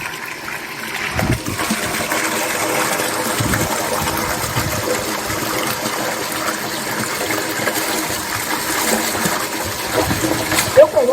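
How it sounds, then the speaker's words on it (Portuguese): Water pouring from a pipe elbow into a tank to oxygenate it, a steady gushing splash that runs continuously, close and moderately loud, with no speech. "porque a água entra aqui, dá pressão e cai oxigenando"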